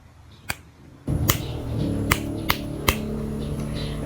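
Finger snapping as body percussion: one sharp snap alone, then three more crisp snaps spaced about half a second apart over a steady background hum.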